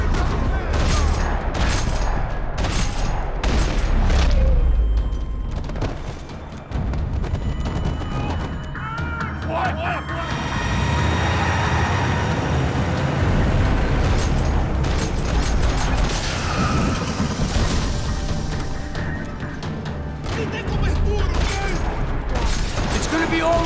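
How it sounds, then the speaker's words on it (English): Bursts of rapid gunfire crackle repeatedly in the video game Max Payne 3 amid a dense, noisy soundscape of mechanical clatter, loud and close, with a calmer stretch in the middle. "Another parking lot rattling with gunfire."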